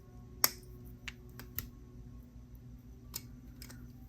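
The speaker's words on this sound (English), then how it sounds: "Snip off the excess," Wire snipped with cutters while making a double-strand beaded necklace: a few sharp, isolated clicks close by, one louder snip followed by lighter ones, spaced out over a quiet background.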